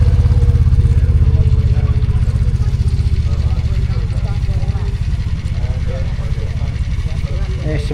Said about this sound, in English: There's some more motorbikes here.